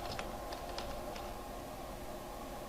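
Computer keyboard typing in a short burst of a few soft clicks near the start, faint under a steady background hum, then it stops.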